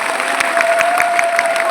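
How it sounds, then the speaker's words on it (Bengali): An audience claps together at a religious Bhagavat reading gathering, a dense, even round of applause with sharp individual claps audible throughout, loud and close, without speech. "সবাই একটা করতালি দিন।"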